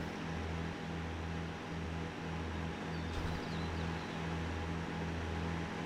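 A lawn mower engine drones steadily as it works its way up a hill, a low, even hum with a faint pulsing rhythm, heard at a moderate distance with no voices.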